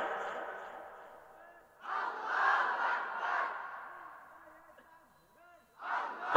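A large crowd at an Islamic sermon on the day of Qurbani shouts the takbir in unison, rising in several loud, echoing swells that fade between bursts.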